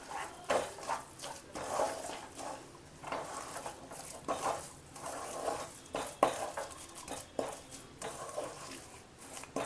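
A spoon scraping and knocking against a pan while coconut filling with ghee is stirred, soft irregular scrapes and clinks repeating steadily over a faint sizzle, close but quiet, with no one talking.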